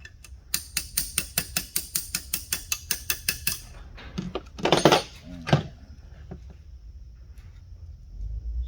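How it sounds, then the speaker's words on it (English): Rapid, steady metallic taps from a wrench used as a hammer on a Karmann Ghia's dual Weber 34 ICT carburetor, about a dozen in a row, close by, then a few scattered knocks and a quieter pause. "I'm just using my wrench as a little hammer."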